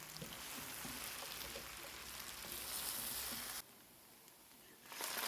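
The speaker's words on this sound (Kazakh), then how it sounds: "нанымыз қытырлақ әдем болып пісу үшін 3-4 минуттай оттың астын ашып, осылай қуырып алатын боламыз" Stale bread and potato pieces frying in oil in an open pot, a dense steady sizzle throughout that drops sharply near the end and then swells back up.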